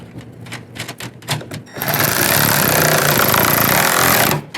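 A power tool snugs down the nuts on a Nissan Rogue side mirror, with a few short bursts of rapid clatter followed by a loud continuous whirring run of about three seconds that then stops abruptly.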